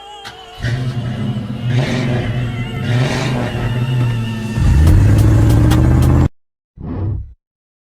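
A car engine revs hard and loud for several seconds, its low droning note swelling into a heavier roar before cutting out abruptly, followed by one short final burst.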